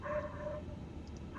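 A dog at home gives a short, faint whimpering yelp, a few thin high notes over quiet room background.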